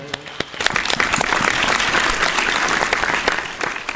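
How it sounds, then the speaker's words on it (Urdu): Audience at a school annual function applauds the children who performed, a full burst of clapping from many hands that starts with a few sharp claps and swells to steady, dense applause throughout. "بچوں کی حوصلہ افزائی کے لیے ایک بار پھر سے تالیاں بجائیں۔"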